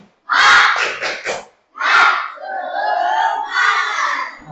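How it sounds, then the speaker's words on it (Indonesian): In an Indonesian classroom, a class of pupils does the tepuk semangat chant: a quick burst of rhythmic clapping, a brief pause, then loud unison chanting voices held out together. "Tepuk semangat."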